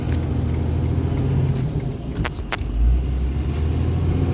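Two-wheel drive truck rolling along an ice-covered road, a steady low engine rumble and road noise throughout with a couple of brief sharper ticks partway through, heard from inside the cab.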